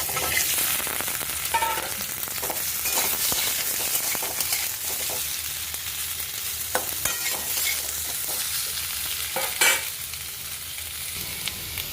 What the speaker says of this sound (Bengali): সেদ্ধ আলুটা একটু নেড়ে নেবো